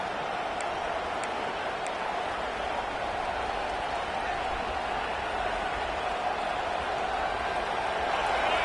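Home crowd in a college football video game cheering on third down, a sustained, even roar of many voices at moderate volume that swells slightly near the end.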